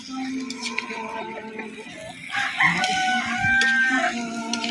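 Chickens on a farm cluck and call over a busy mix of background noise, with a rooster crowing among them; the sounds come moderately close and keep going throughout.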